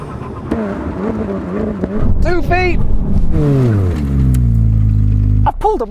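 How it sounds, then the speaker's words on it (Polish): Supercars, a Ferrari 296, McLaren 750S, Lamborghini Huracan Performante and Porsche 911 Turbo, brake hard to a full emergency stop, with loud engines winding down through falling revs and a sharp blip near the end, under a talking voice. "Let's find out when we reach the line full emergency stop."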